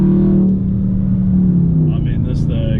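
2019 Dodge Charger Scat Pack accelerating hard, a deep loud engine rumble with a falling tone as it pulls away, with someone talking over it near the end.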